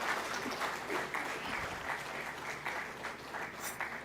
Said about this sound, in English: So big round of applause for yourself.